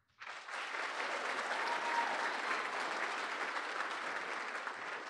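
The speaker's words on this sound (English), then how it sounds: "can I have a huge round of applause" A conference audience at the Crawford catastrophe conference breaks into a loud, sustained round of applause, dense steady clapping filling the room for several seconds without a break.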